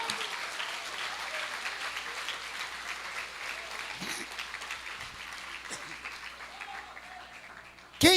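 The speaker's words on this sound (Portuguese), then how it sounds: "Aplauda ele." A church congregation applauds during a sermon, a long, fairly soft and steady clapping from many people with a few scattered voices mixed in, ending in a sudden loud sound at the close.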